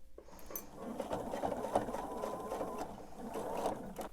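A sewing machine stitches a table runner seam, running steadily and fairly close with a dense mechanical chatter for about four seconds, with no talk.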